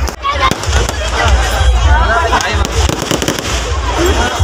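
Fireworks crackle and pop repeatedly amid a noisy crowd at a packed ground during a Ravan effigy event, with voices and babble mixed through the bursts.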